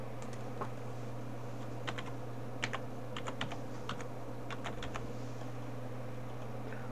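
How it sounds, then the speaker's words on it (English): Keys clatter on a computer keyboard in short irregular bursts of clicks, close and fairly clear over a steady low hum, with no voices. "I will type in holidays just as an example."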